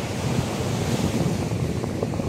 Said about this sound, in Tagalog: Ang lakas ng alon ha, baka madisgrasya pa tayo.